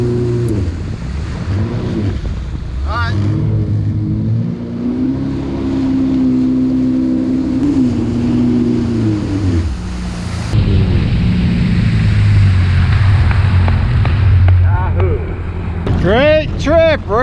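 A jet ski engine roars on the St Johns and Econ rivers, its pitch rising and falling with throttle changes, loud and close with wind rush and splashing, and voices now and then.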